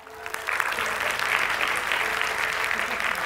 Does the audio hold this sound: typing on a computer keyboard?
no